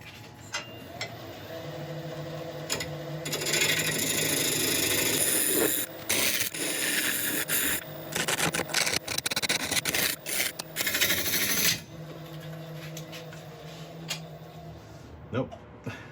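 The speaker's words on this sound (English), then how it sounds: "I'm just going to really get a carbide on here and see how that does" Carbide turning tool cutting ebony on a wood lathe, a steady harsh scraping rasp with a hum from the lathe underneath, broken by brief pauses and uneven bursts as the tool bites into the wood.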